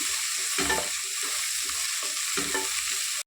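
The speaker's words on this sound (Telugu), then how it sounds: "టేస్ట్ అయ్యే వరకు ఫ్రై చేస్తున్నాం" Ginger paste and turmeric fry in a pan with a close, steady sizzle. Two louder bursts of stirring scrape through it. No one speaks.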